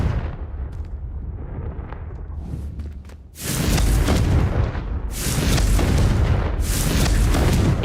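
Confringo blasting-spell explosions in Hogwarts Legacy, a quieter rumbling lead-in giving way to heavy, sustained roaring blasts in loud successive waves that fill the rest of the clip.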